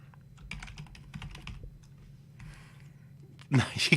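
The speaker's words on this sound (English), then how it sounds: "You can't see what I'm typing" Typing on a computer keyboard while playing Tropico 4 on a PC, quick clusters of light key clicks near the mic with pauses between bursts, a voice murmuring faintly under them and a louder burst at the end.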